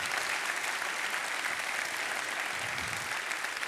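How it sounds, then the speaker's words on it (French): Audience applause at a live conference interview event, a steady, dense wash of many hands clapping throughout, loud and close with no talk over it. "vous pouvez applaudir David Marcus"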